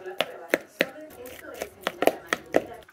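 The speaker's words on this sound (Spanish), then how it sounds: "Los voy a pelar, los voy a picar y se los voy a agregar." Knife chopping peeled boiled eggs on a cutting board for a keto egg salad toast, with about ten sharp, fairly regular chops close by and no talking.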